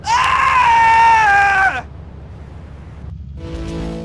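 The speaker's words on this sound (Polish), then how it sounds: "Wszyscy uciekli z krzykiem." Screams of fleeing pedestrians in GTA Vice City at a construction site, a loud sustained wailing scream lasting under two seconds that cuts off, followed by low ambient game noise and a brief burst of further sound near the end.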